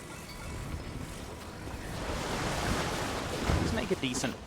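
Boat gliding over water in the video game Tears of the Kingdom, a steady washing rush of waves and wind that swells slightly, with a few small knocks near the end.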